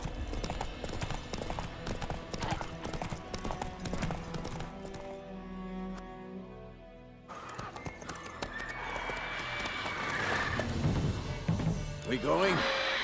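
In The Witcher 3, a horse gallops with a rapid hoof clatter and gives an occasional whinny, layered with game ambience and short speech. The rhythm drops out briefly mid-clip, then returns louder and busier.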